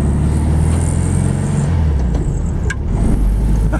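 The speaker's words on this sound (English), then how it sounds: "Take a Volkswagen Bug for a drive." A 1965 Volkswagen Beetle convertible being driven, its air-cooled engine a loud continuous rumble heard from inside the car, with a brief dip that sounds like a gear change.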